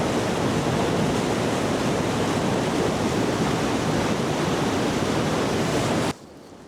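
Wadsworth Big Falls in heavy flow gives a loud, steady roar of crashing water close by, dense and unbroken for about six seconds before cutting off abruptly to a much quieter background.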